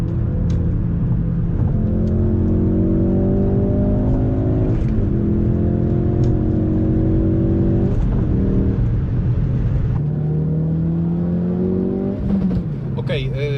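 Loud, sustained engine revving from a Ford Focus RS with manual gearbox, the pitch climbing and dropping through several shifts, close and continuous with no talking.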